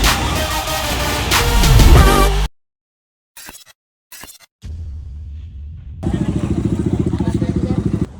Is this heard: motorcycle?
yes